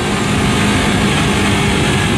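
A friend's motorcycle fitted with an aftermarket racing exhaust produces a loud, steady low engine drone that fills the whole moment without a break.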